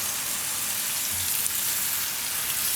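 Tomatoes and fresh coriander frying in a pan of spinach and eggplant curry, a loud continuous hiss and crackle of sizzling oil, close and steady.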